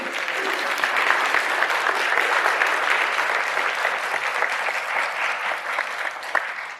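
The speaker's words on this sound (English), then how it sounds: "Round of applause to Christian, my fellow spokesman over there" Dense, sustained applause from a large audience at a talk with a spokesman, steady and full for several seconds before tapering slightly at the end.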